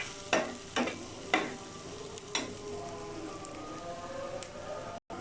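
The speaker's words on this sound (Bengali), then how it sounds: "যেহেতু সরষের তেল দিয়ে ভাজছি," Spices fry in mustard oil, a soft, fairly quiet sizzle with a few sharp stirring scrapes early on, then a steadier low crackle.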